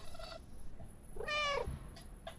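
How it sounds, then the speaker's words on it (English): A cat in the video game Stray meows once at mid-length, a clear tonal call standing alone, with shorter, fainter meow-like chirps before and after. "I always forget I can meow by hitting the circle."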